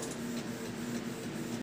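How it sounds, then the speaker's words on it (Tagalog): A photo printer at a christening photoshoot event runs a steady mechanical whir with a constant low hum, close and continuous, then cuts off abruptly. "akala ko masisira ka ng printer ka."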